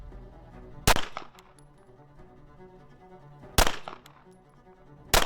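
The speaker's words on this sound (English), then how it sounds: "I'm just gonna do a 5-shot group at about 10 yards just to see the difference between a comp and a port" Pistol fired with a UL compensator at a target about 10 yards away: three sharp, loud gunshots spaced a few seconds apart, each followed by a short echoing decay, with the last shot at the very end.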